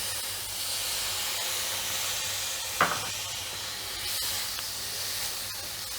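Tomatoes go into a hot pan of spiced oil for dal and sizzle with a steady, soft hiss throughout, marked by one brief louder crackle as they hit the pan.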